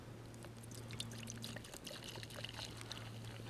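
Gin being poured into a glass at an Australian winter bushcraft campsite: a faint, quiet trickle of liquid lasting a few seconds, heard under light outdoor ambience.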